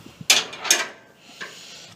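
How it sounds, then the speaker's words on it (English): A door swings shut during an indoor dog-training session: two sharp wooden clunks in quick succession, then a softer knock a moment later, close by with no talking. "Close the door."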